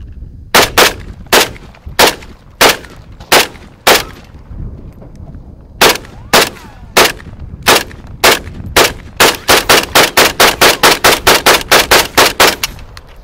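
Rapid rifle fire in 7.62x39 from a Ruger Mini 30 and an AK-47 at an outdoor shoot: loud, sharp, close cracks, first spaced single shots, then quicker strings, ending in a fast burst of about a dozen shots.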